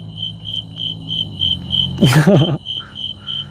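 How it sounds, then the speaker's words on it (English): Crickets chirp in a steady pulsing rhythm, briefly interrupted by a louder warbling burst before the chirping resumes. "We love the cricket sounds."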